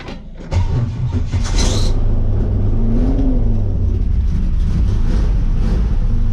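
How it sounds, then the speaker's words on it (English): A parked Chevrolet Camaro's engine starting up after a short rustle, then settling into a deep, steady rumbling idle with a slight rise in revs as it is moved, close by and alone without talking. "We'll have to move my Camaro out of the way."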